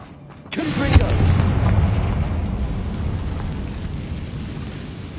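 A Confringo fire spell cast in Hogwarts Legacy, heard as a single loud booming blast that rolls out into a long, dense rumbling decay, with no one talking over it.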